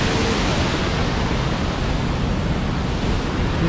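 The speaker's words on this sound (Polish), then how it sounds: "Świetny wodospadzik." A small mountain waterfall in the Tatras gives a steady, loud, broadband rush of falling water that stays unchanged and close throughout, with no voices.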